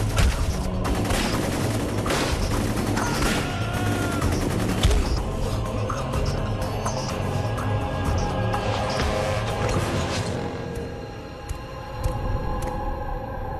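Dense, loud gunfire in the Wolverine's Revenge video game, continuous volleys of rapid shots and booms that thin out near the end.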